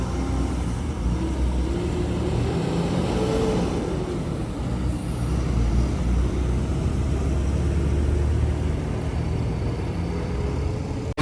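Steady road traffic of mini buses and travel coaches heading toward Mumbai at night, a continuous low engine and tyre rumble that swells slightly as vehicles pass, loud and unbroken, with no voices.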